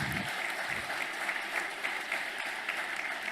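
An audience at a speech during a foundation dinner claps steadily throughout, a dense, even wash of applause from a crowd heard at moderate distance.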